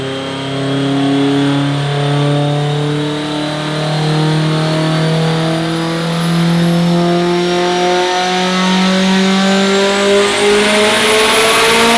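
Subaru STi tuned past 1100 wheel horsepower revving hard under load near 8,500 rpm, a loud sustained engine howl that climbs steadily in pitch with a raspy, buzzing edge, close and alone with no voices.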